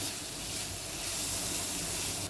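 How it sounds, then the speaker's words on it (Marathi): Coriander and spices, including turmeric and a homemade masala, sautéed in a pan for soybean bhurji, producing a continuous close, dense sizzle and hiss with no talking. "त्यामुळे कोथिंबीर, मसाले आपण परतून घेऊया"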